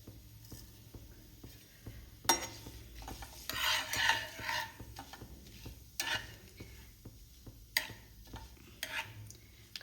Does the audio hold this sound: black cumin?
yes